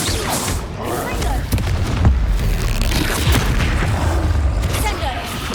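Fiery spell blasts boom amid a busy Hogwarts Legacy wizard duel, several heavy thumps and explosions landing over about five seconds, mixed with spoken incantations and combat clatter.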